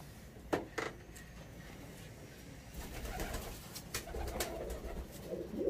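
A breeder's pigeon coos softly in a quiet setting, with low, faint repeated calls and a couple of brief knocks or rustles early on.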